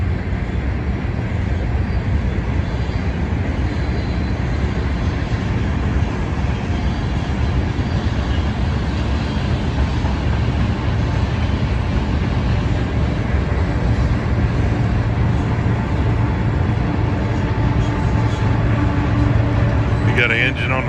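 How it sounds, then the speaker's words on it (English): A train rumbles past in a steady, continuous low roar, heard from a boat on the Mississippi River, holding at constant loudness throughout, with speech faintly audible over it. "Train coming past."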